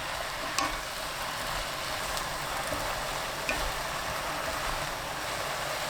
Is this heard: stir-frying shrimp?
yes